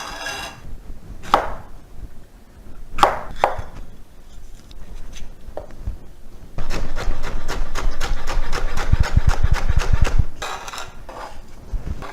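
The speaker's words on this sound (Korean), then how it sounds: "파를 좀 다져 놓고요." A kitchen knife mincing green onions on a cutting board, with a few scattered chops at first and then a fast, steady run of close, crisp knocks before it slows again.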